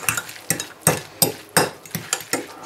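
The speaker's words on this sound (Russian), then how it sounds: "И перемешаем хорошо все." Mushroom paste with salt and pepper stirred in a bowl, about eight rhythmic scraping strokes of a utensil, close and crisp, evenly spaced, with no voices.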